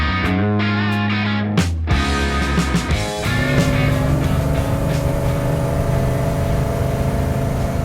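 A supercharged LSA V8 in a 1967 Pontiac GTO restomod drives past, its engine rising and falling over a couple of throttle blips before settling into a steady, loud, close drone.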